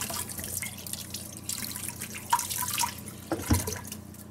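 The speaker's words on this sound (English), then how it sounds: "let me wash my hands here real quick." Hands are washed under a running kitchen tap, water splashing and dripping close by in an uneven trickle with a few sharper splashes near the end.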